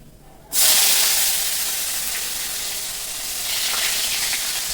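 Chopped onion hits hot mustard oil with nigella seeds, erupting into a loud, sudden sizzle after a brief quiet start, then settling into a steady, bright frying hiss that swells slightly toward the end.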